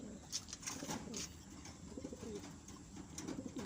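Racing pigeons that have just arrived at the loft coo softly in repeated low, throaty bursts, close by and fairly quiet, with light rustling and faint chirps mixed in.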